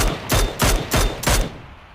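Video game gunfire from an M4 rifle: four sharp, loud bursts in quick succession that ring out and then fade to quiet.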